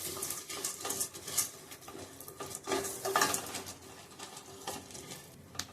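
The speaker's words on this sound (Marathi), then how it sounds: "भोपळ्याच्या ब्या, सूर्यफुलाच्या ब्या सर्व टाकून आपण एकत्र भाजून घेऊया." Pumpkin and sunflower seeds roast in a spoonful of ghee in a pan, crackling and sizzling steadily with irregular scraping stirs and light metallic taps of a spoon against the pan, close and moderately loud with no talking.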